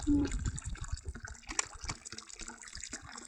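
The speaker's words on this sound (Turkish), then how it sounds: "Daha sonrasında içine su doldurmaya başlayacağız." Water gushes and splashes into a Decathlon Quechua camp shower bag, a choppy, bubbling pour that settles into uneven trickling and gurgles.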